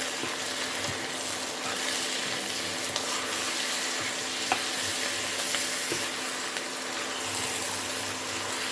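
Small-cut rump steak frying in a pan with browned onions: a constant loud sizzling hiss, close and steady throughout, with only a few faint clicks and no voices.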